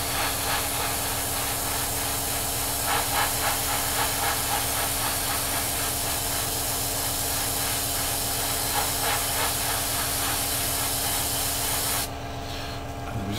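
An airbrush blows a continuous steady hiss of air over the front gun area of an Academy 1/48 SU-27UB Flanker model kit, close and even for most of the clip before cutting off near the end.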